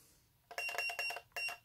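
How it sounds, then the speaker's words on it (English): A Dewhurst US91-15 push button emits bright electronic beeps: a quick, warbling cluster of four tones followed by a short pause and one more, sounding clear and close in a quiet room. "And it beeps."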